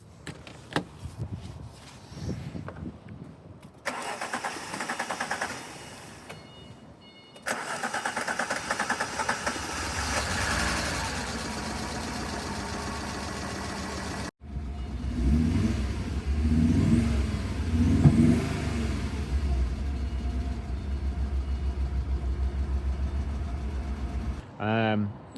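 A car engine freshly fitted with a new fuel pump cranks, catches and revs up and down in bursts, then runs roughly at idle, close and loud, with quiet gaps between attempts and no speech.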